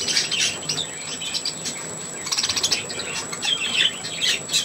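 A seagull gives sharp, close, repeated calls in irregular bursts over a faint hiss, with short pauses between the cries.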